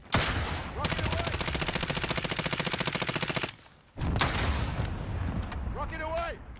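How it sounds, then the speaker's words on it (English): Automatic weapon fire rattles in a fast, steady burst during a Warzone match, cuts out abruptly, then more loud combat noise follows, with voices speaking over it. "Rocket away!"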